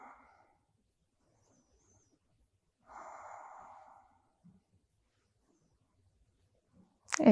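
Slow breathing during a yoga stretch: a soft exhale at the start, then a longer, airy breath in the middle, with near silence between breaths and a brief rustle at the end.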